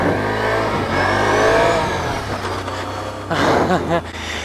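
2016 Can-Am Outlander L 500 V-twin ATV engine revving hard during a wheelie, a close mid-pitched roar that rises and falls in pitch, with a burst of throttle blips near the end.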